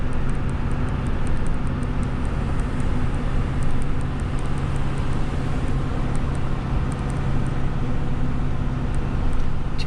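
A 2021 Ford F450 truck climbs a hill while towing, producing a loud, steady engine drone and road rumble heard from inside the cab with no talking.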